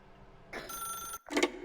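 Telephone ringing in the video game The Stanley Parable, a bright electronic ring burst followed by a short pause and a second ring, clear and moderately loud over a quiet hum.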